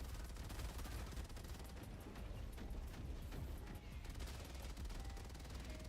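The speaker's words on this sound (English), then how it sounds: "Just keep shooting." Gunfire from Helldivers 2 recreated in Unreal Engine, dense continuous rapid shooting that stays at a constant level with no pauses, fairly faint in the mix.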